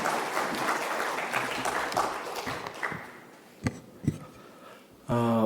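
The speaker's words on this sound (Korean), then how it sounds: "말씀 사모하는 마음으로 박수로 환영해 주시기 바랍니다" A church congregation claps in welcome at a Sunday worship service, steady applause for about three seconds that thins into a few scattered claps and then stops, followed by a brief clear tone.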